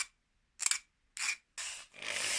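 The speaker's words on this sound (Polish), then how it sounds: "Następnie pilnik, ostre krawędzie stępić" A hand file rasps along the sharp metal edges of a part for a BMW K1100 cafe racer build in a garage, with three separate, close, scraping strokes and a fourth longer stroke that grows louder toward the end.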